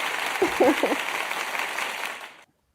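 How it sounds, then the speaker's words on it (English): Applause sound effect dropped into a music and dance news show, a short burst of crowd clapping with a brief vocal whoop near the start, ending abruptly in silence. "Here's some more applause."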